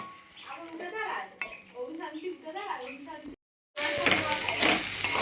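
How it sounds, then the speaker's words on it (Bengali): Kalmi water spinach fries with onion in a pan, a broad sizzle surging up after someone speaks and a short pause, with faint clinks of utensils. "পেঁয়াজ ফোড়ন দিয়ে কলমি শাক ভাজা হয়ে গেল"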